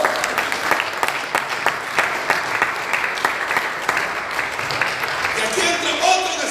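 A church congregation applauds during a Spanish-language sermon, a sustained crowd of clapping hands with a voice speaking over it and the clapping thinning toward the end.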